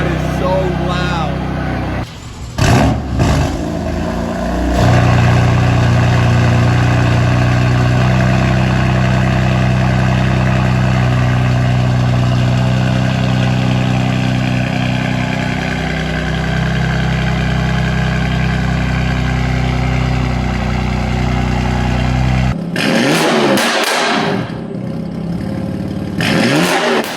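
Loud idle from a BMW M4 F82 fitted with VRSF midpipes and downpipes, a steady close-up rumble sustained for about twenty seconds, bracketed by sharp revs and popping bursts at the start and near the end.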